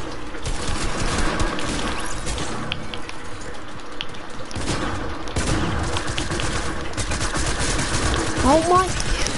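Rapid video game weapon fire, bursts of machine-gun style shots layered with game effects and a voice talking over them, steady and fairly loud throughout.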